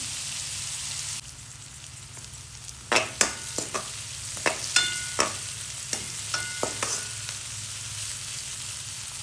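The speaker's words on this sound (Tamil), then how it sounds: "வெங்காயம் நல்லா வதங்கணும் இல்லை ஒரு அரைப்பதத்துக்கு வதங்கட்டும்" Onions sautéing in a pan for potato patties, a quiet soft sizzle broken by a series of sharp stirring clicks and scrapes.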